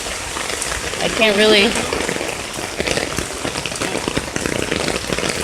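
Steady rain patters and splashes, gathering in outdoor water barrels, a constant close hiss of drops with a person speaking briefly over it.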